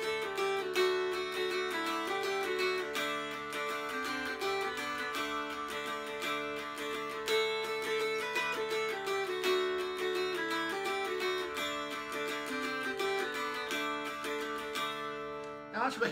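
Mountain dulcimer played alone, picking out a melody with all three strings struck on each note, producing a busy, rhythmic, ringing drone-backed tune that stays steady and moderately quiet throughout.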